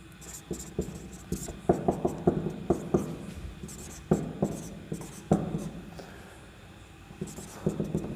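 A pen scratches across paper in short, rhythmic strokes and taps, close and fairly quiet, with brief pauses between bursts of handwriting.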